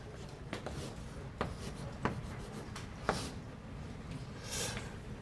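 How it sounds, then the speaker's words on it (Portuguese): Marker or chalk strokes writing math on a board, quiet scratchy squeaks and taps spaced across several seconds with soft rubbing between, no talking. "eu vou escrever assim."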